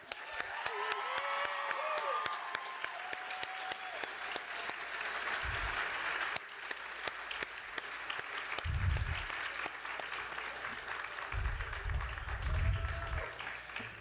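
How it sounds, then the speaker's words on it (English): Steady applause from a crowd at a transfer celebration, a dense continuous patter of clapping with occasional faint voices mixed in. "please give yourselves a round of applause"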